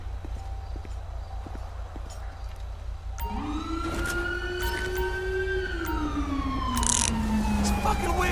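Midway through, an ambulance siren in the video game GTA V with the LSPDFR mod rises, wailing in long sweeping tones over a low engine rumble and growing louder as it approaches.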